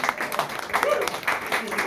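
Audience clapping at a live music event in a brewery, a brief patter of applause mixed with voices and crowd noise.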